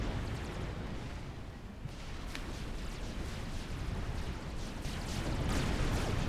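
Sustained rumbling barrage of unit fire in Forged Alliance, a real-time strategy game, with dense overlapping blasts and booms rolling steadily throughout, no voices.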